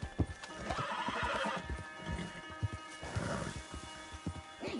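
A horse in the Red Dead Online video game whinnies loudly and snorts, its hooves clip-clopping in uneven beats close by, with a second neigh rising partway through.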